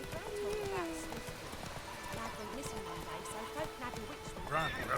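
Roach, the horse in The Witcher 3, gallops with a steady rhythmic clip-clop of hooves alongside an occasional whinny, blended with game ambience and voices talking over it.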